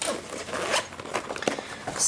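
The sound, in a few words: zipper of a pencil case being opened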